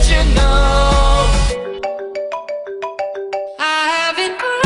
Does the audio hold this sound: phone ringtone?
yes